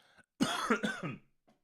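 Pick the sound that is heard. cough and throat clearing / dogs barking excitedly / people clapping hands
cough and throat clearing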